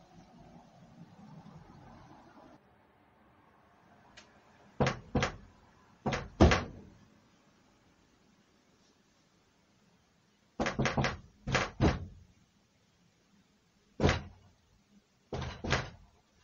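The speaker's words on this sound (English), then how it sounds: "And then she goes pounding, knocking on our door." Someone pounds and knocks on a door in several clusters of sharp, loud raps, with stretches of near silence between them and a faint murmur at the start.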